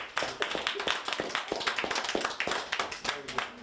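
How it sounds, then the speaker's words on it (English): A small group claps after a birthday mention during a studio interview, the sparse, uneven hand claps ringing close and fairly quiet, with voices talking over them throughout. "let's give up a round of applause for that"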